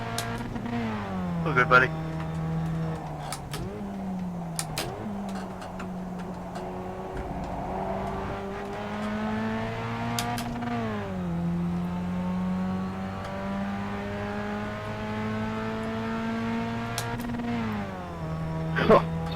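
Pontiac Solstice race car engine in the iRacing sim at Daytona road course, a steady droning rev that rises and falls with shifts throughout, heard under a man's brief radio chatter.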